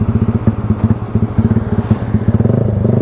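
A motorcycle engine idles with a steady, close, loud rapid putter on a cold night after rain, then the beat quickens slightly toward the end.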